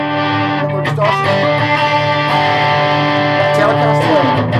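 Electric guitar played with heavy distortion through a Victory Sheriff valve amp, sustained chords ringing continuously and loud for several seconds.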